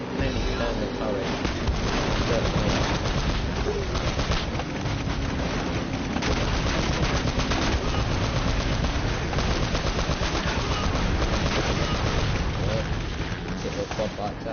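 Cannon turret firing in Uncharted: Drake's Fortune on Crushing difficulty, a dense unbroken barrage of rapid heavy shots with roaring noise throughout, loud and sustained, with a voice talking over it.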